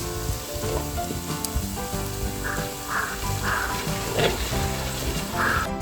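Ginger, green chili and garlic sizzle steadily in hot oil as they are stirred in a pan for chicken biryani, with faint scraping and a few brief clinks over the continuous frying hiss.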